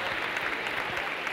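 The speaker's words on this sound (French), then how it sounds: "vous pouvez l'applaudir" Brief audience applause at an aviation careers awards ceremony, a soft, even patter of many hands clapping at moderate distance with no pauses.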